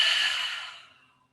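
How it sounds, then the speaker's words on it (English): A single deep breath drawn in through the nose during a vinyasa yoga practice, a close, airy rush that starts strong and fades out smoothly over about a second. "Take a deep breath through your nose."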